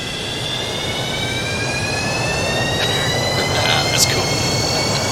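Simulated Boeing 727 jet engines starting up in X-Plane 11: a steady loud roar with several whining tones slowly rising in pitch as the engines spool up.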